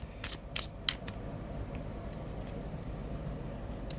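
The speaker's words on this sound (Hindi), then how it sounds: "Last shuffle." Tarot cards shuffled by hand, three quick crisp riffling bursts close to the microphone at the start, then a quieter lull with a few faint flicks over a low room hum.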